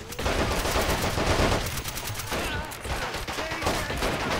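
Dense, continuous gunfire from infantry squads in the World War II strategy game Men of War: Assault Squad 2, with overlapping rifle and machine-gun bursts rattling steadily throughout an online battle.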